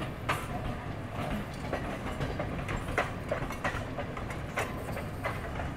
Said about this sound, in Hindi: लोकल ट्रेन और डबल डेकर में हमको लग रहा है रेस चल रही है।